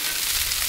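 Hot onions and peppers sizzle on a Blackstone griddle beside prime rib burgers, a steady close hiss that holds even and unbroken throughout with no talking.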